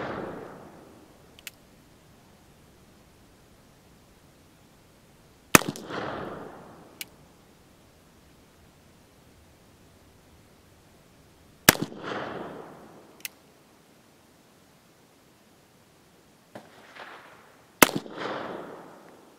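An 1851 Colt revolver fires .36 caliber Richmond Lab conical bullets: four loud, close single shots spaced several seconds apart, each with a sharp crack and a rumbling tail, interspersed with faint clicks.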